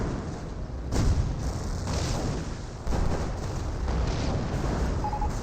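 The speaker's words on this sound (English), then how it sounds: "Black 88 doing a good job of hitting these Cromwells" German 88 gun firing at British Cromwell tanks in a Company of Heroes battle, heavy booms repeating at roughly one-second intervals over dense rumbling battlefield noise.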